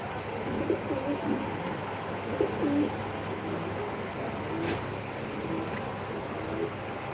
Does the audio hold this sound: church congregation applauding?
no